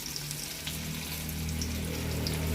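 Curry leaves, grated ginger and cashews fry in hot oil, a steady close sizzle that holds and swells slightly throughout.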